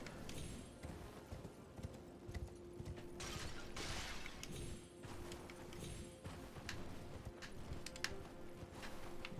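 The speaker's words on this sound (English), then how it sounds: "Come on, horsey. Do your horsey double jump. There we go. There's a nice horsey double jump." Horse hooves galloping and double jumping in the Elden Ring video game, a rhythmic clip-clop of hoofbeats with bursts of whooshing jump effects under game background sound, fairly faint.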